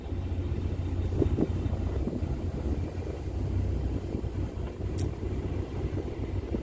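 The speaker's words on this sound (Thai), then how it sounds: "Now the boat is moving to another dock." A large boat moving to another dock gives off a low, continuous engine rumble, steady and moderately distant, blended with wind buffeting the microphone.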